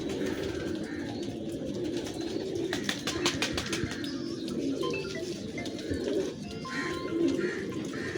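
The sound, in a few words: pigeons cooing in breeding setup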